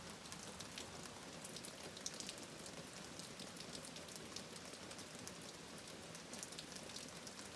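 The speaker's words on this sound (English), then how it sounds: "Rain is coming down, and it looks to be doing so all night." Heavy rain pours steadily through the night during an atmospheric river storm in Northern California, a dense, continuous hiss of drops drumming on surfaces with no break or voices.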